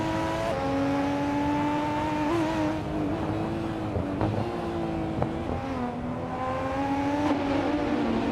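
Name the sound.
Kuruma Cup race cars racing at Brands Hatch GP, video game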